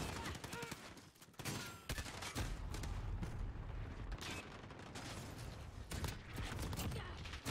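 Dense gunfire in Call of Duty Modern Warfare, quiet and continuous with rapid overlapping shots and bursts, mixed with faint game noise throughout.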